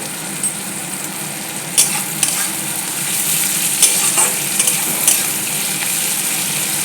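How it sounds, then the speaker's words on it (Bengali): Onions with a pinch of salt fry in a hot pan for a mutton curry, a steady dense sizzle with occasional sharper crackles and the scrape of stirring, close and continuous with no talking. "পেঁয়াজটা তাড়াতাড়ি ভাজি হয়ে যাবে।"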